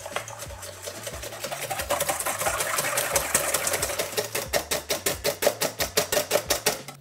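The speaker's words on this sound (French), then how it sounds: "Et on fouette jusqu'à ce que le mélange blanchisse." An electric whisk beats whole eggs and sugar for a Ferrero Rocher Yule log until the mix turns pale, a steady whirring hum that gives way to fast rhythmic pulses as the beaters knock and churn.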